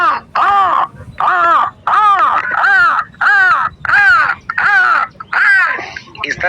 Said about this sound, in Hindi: तो कौवे की आवाज ऐसी है जैसे आपका गर्म क्षेत्र का आता है, ऐसे गला फंसा होता है उसका